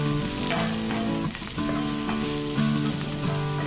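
Onion, green chili, ginger and garlic sauté in a pan for beetroot cutlets, a loud, steady sizzle with occasional stirring scrapes, heard close with tonal music playing underneath and no speech.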